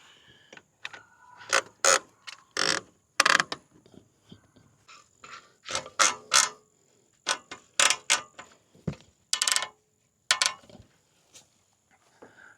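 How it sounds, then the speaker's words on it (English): Tire straps ratcheted tight on an OUTFITR Rockland two-bike hitch-mount e-bike rack, a series of sharp close clicking and creaking bursts in irregular clusters, with brief pauses between pulls and no talk. "Now you can put your tire straps on."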